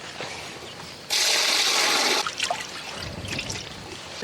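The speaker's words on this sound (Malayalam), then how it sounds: "വെള്ളം കുറച്ച് വെള്ളവും കൂടെ ഒഴിക്കാം നമുക്കിതിലേക്ക്" Water pours into a cooking pot of jackfruit and beef being cooked Kerala village style, a loud steady gush lasting about a second before fading into bubbling and clatter.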